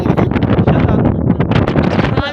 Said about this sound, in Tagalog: Siguro sa sobrang lakas ng hangin.